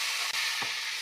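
Onions frying with ginger paste in a pan for potato curry, a loud, steady sizzle with a brief stirring scrape partway through.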